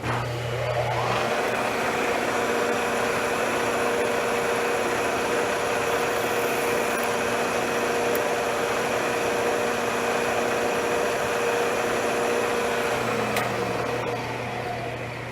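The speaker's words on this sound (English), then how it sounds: "over here on the mill, we're just going to make a quick pop hole in the back" A milling machine motor whirs steadily and loudly while drilling a gas port hole in an AK47 part, a constant mechanical hum with a high whine, spinning up at the start and winding down near the end.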